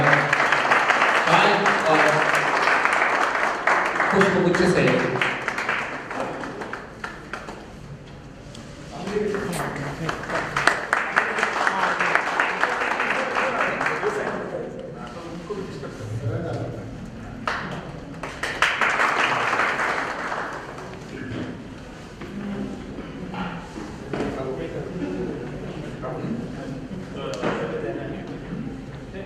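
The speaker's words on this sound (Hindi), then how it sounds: "हम सब लोग तालियों से भी उनका स्वागत करें" An audience claps to welcome a speaker at an introduction event, in several loud bursts of applause separated by someone speaking into a microphone.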